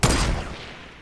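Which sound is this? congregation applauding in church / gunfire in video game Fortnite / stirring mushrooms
gunfire in video game Fortnite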